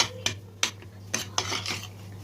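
Metal utensil scraping and clinking against a pan in several sharp strokes, roasting flour in olive oil and butter for helva, with a steady low hum underneath.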